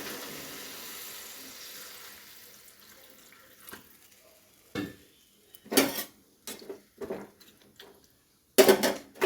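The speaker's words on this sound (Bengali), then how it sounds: "এখানে নাড়াচাড়া করে একটু জল ঢেলে দিলাম।" Pumpkin curry is stirred in a pan, with a quiet stretch followed by several sharp, close scraping and clanking strokes of a utensil against the metal, the last ones loudest.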